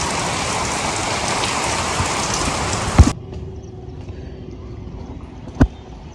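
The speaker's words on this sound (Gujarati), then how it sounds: "વરસાદ ચાલુ થઈ ગયો છે ભાઈ" A rain shower gives a dense, loud hiss for about three seconds, then drops abruptly to a quieter background with a couple of sharp knocks.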